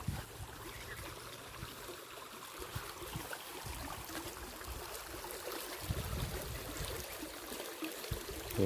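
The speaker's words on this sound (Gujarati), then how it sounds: "નેવડામાં જો આવું પાણી છે." Water runs steadily along a small stream in the open, a faint continuous trickling and gurgling with no voices.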